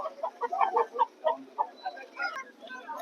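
Native country roosters at a poultry market in Vijayawada cluck and call in quick, overlapping bursts, several birds close by with a busy, continuous chatter and no talk over it.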